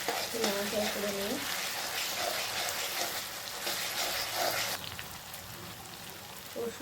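Garlic, ginger and onion frying and being stirred in a pan, a steady close sizzle with occasional scraping of the spoon running throughout.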